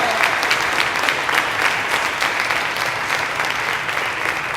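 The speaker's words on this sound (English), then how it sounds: "Would you give all of them a very large applause, and yourself?" A large audience applauds in a dense, sustained burst of clapping that stays steady and fairly loud from start to finish, with no voices standing out.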